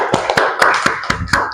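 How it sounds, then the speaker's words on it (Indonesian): A few people in a vocational school English class clap for a student group. The claps are sharp and sparse, come in a quick, fairly regular rhythm and sound close, with no talk over them. "Tepuk tangan untuk kelompoknya Nia."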